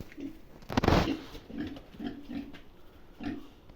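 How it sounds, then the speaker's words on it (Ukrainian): A young piglet less than a month old gives repeated short, low grunting oinks at an even pace, close by, with one louder rustling thump in between and no talk. "Це щось якесь нове, це я не знаю що за порося"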